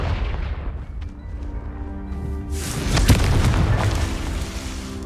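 Confringo spell explosion in Hogwarts Legacy, a sharp booming blast midway followed by a crackling, rumbling burst that lingers at high volume, preceded by quieter game sounds.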